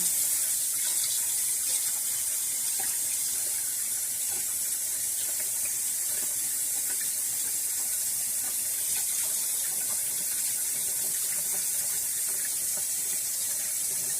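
Steady running water from a tap pours continuously while an aloe vera basil shampoo bar is lathered beneath it, a broad close hiss with no voices.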